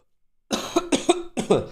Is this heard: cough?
yes